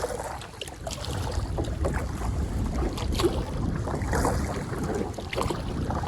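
Wind buffets a canoe drifting on the French River while fishing, a steady close rushing and rumbling against the microphone with faint water movement underneath, no talking.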